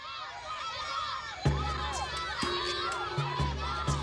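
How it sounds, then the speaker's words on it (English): Farmers and their children shouting and screaming at elephants to drive them out of crop fields, a busy chorus of high voices calling out together in bursts over a low steady drone, fairly distant. "we can hear the screams of farmers and their kids shouting at the elephants to try and get them out of their crops"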